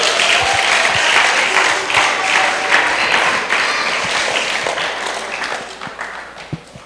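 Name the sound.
audience applause at gala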